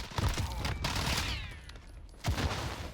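Fennec SMG gunfire in Call of Duty Modern Warfare, two rapid automatic bursts with sharp low thumps separated by a short pause, heard close over game ambience.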